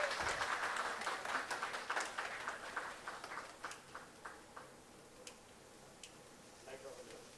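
A crowd at a television channel's first anniversary celebration claps steadily, loud at first and then thinning into scattered, fading claps over several seconds.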